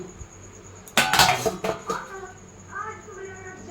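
A lid set over a bowl of mixed chicken for homemade momos, a brief cluster of close metallic clinks and clatter, then quieter rustling as a voice speaks.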